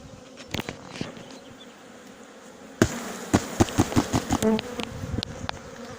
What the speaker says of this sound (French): Ah, on voit les abeilles qui descendent. Elles tombent, elles tombent.